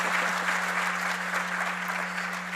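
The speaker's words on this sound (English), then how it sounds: "Yes, let's please clap for that." A graduation ceremony crowd at the Bijou School claps in a steady wash of applause, heard over a constant low electrical hum.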